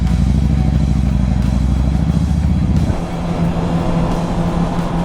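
A motorcycle rides along a country route toward a covered bridge, its engine droning loudly and steadily with wind rush, then shifting to a lower, rougher rumble partway through.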